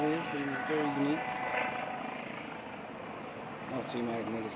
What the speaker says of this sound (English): Also, you might have noticed a helicopter.